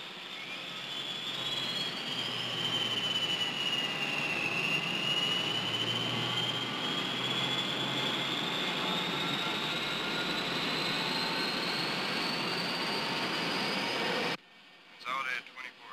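Steady roar of a jet airliner cabin in flight at 29,000 feet, a broad engine drone with a slowly gliding high whine running unbroken for most of the time before cutting out abruptly near the end.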